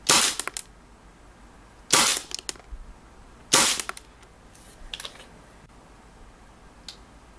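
An airsoft gas pistol (KWA/KSC type) with a stock rocket valve firing 0.20 g BBs: three loud, sharp, close cracks spaced roughly two seconds apart, then a few faint clicks in quiet.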